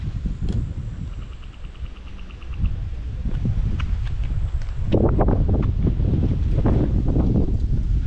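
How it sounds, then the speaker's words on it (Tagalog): Wind gusting across a desert wadi hiking trail, a steady rushing roar with buffeting against the microphone that strengthens in the second half, mixed with scattered footsteps and rustling close by. "Sarap ng hangin ah."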